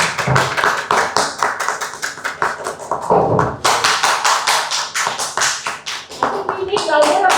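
Audience claps steadily at a book launch event, a rhythmic, fairly close burst of many hands keeping a brisk beat, with voices faintly mixed in beneath the clapping.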